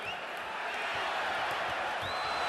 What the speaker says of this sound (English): The crowd can do nothing but applaud this young man from Brockton, Massachusetts tonight